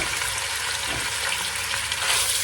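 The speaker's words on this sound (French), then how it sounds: "Je mélange au fur et à mesure pour qu'elle n'accroche pas en bas et je la laisse colorer pendant 5 à 7 minutes environ." Meat browning in sunflower oil in a hot pan for caramel pork, a steady close sizzle and crackle of frying that runs the whole time, with faint stirring and no voices.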